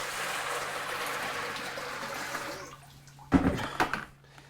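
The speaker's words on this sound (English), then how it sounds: "So let's tip in the first 15 litres." Fifteen litres of water poured into a home-brewing vessel, a steady rushing pour that tails off and ends in a few loud sloshes and thumps.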